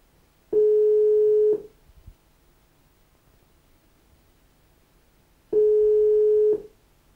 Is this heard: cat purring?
no